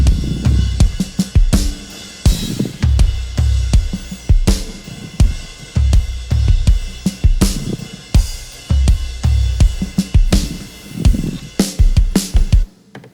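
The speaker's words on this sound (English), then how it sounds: "Just nice live drum reverb. It's a plate and a gated reverb." A live drum kit plays a backbeat through plate and gated reverb, with punchy kick and snare hits and bright cymbals ringing out, loud and full with no voices over it.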